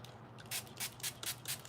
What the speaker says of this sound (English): Let's spray it with the water